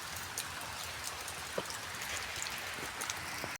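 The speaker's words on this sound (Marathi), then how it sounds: "हे बघा पाऊस पडता" Steady rain patters and hisses on surfaces, with occasional louder individual drops standing out against the constant wash.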